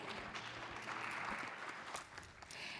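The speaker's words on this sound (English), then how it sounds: "let's give them a huge round of applause again" An audience at a startup pitch competition at SiGMA Africa claps for the judges, a faint, steady patter of many hands with a few louder claps standing out.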